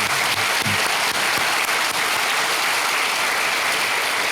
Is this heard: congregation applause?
yes